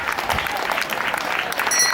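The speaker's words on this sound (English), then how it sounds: "do a round of encouragement here, a round of applause as well." Spectators applaud during the women's 5000m race at the 2011 BMC Solihull Grand Prix, a brief burst of dense, steady clapping from the crowd.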